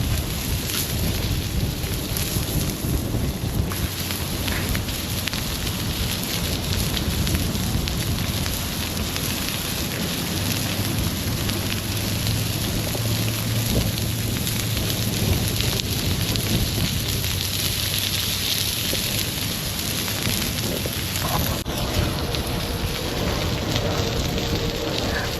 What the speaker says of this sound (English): It is searing up pretty well.